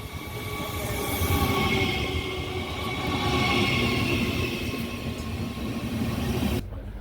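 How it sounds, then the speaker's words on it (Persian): A train rolls past nearby with a loud rumble and metallic squealing wheels, steady throughout before cutting off abruptly. "دوستا قطار ما اومد دیگه"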